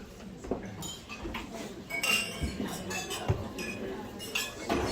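Glasses of scotch clink together as a crowd raises a toast at a celebration of life, a scattered run of bright chinks layered over murmuring voices and room chatter.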